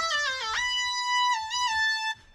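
Detuned unison synth lead patch built in Harmor, a bright sustained buzzy tone sliding down in pitch, holding, then wavering with a slight vibrato before cutting off, heard alone.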